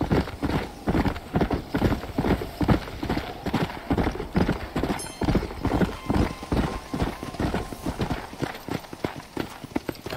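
A horse's hooves clip-clop in a steady, rhythmic trot inside the Western video game Red Dead Redemption Undead Nightmare, loud and close, with a brief neigh partway through.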